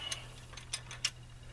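A ratchet clicks in a few quick, light bursts while tightening cast iron intake manifold bolts, close and fairly quiet over a low steady hum.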